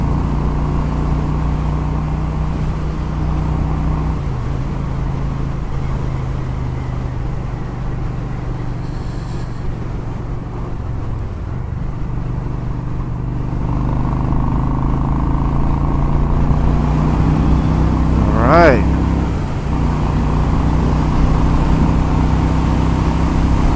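A Honda Shadow ACE 750 motorcycle engine drones steadily at about 120 with heavy wind rush, pitch shifting slightly as it runs on, loud and continuous.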